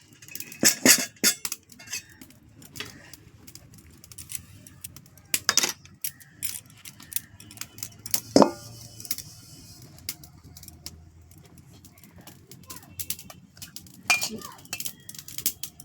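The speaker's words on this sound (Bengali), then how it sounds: "কড়াটা বসিয়ে দিচ্ছি" A metal karai (wok) is set on a stove at an outdoor cooking spot during the rainy season, giving sparse metallic clinks and knocks with one sharper clank, amid quiet background noise.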